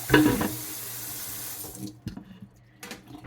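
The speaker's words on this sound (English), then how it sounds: "So I'm going to drain the water." Water from freshly cooked kale is drained through a slotted pot lid, pouring as a loud, steady splashing stream for nearly two seconds, followed by scattered drips and light metallic clatters.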